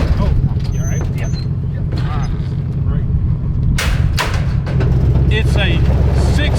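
A 125 hp 670cc two-stroke go-kart engine runs nearby with a steady low drone and rasping revs, while people talk and shout over it.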